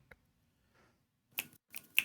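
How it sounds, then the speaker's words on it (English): Several sharp finger snaps crack out as jazz claps, a few scattered ones and then a quicker cluster, close and crisp against near silence. "Oh, it's snapping. Jazz claps."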